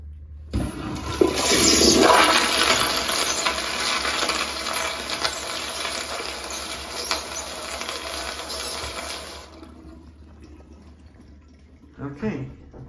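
A hotel restroom toilet at a Days Inn in Panama City Beach flushes with a loud, close rush of water that swells quickly, holds for several seconds, then cuts off into quiet, followed by a brief faint knock.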